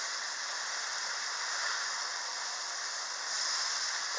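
Black Angus beef osso bucco searing in a hot pan gives a steady, close sizzling hiss that runs unbroken throughout, with no voices.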